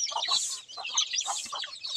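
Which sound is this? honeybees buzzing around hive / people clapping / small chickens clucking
small chickens clucking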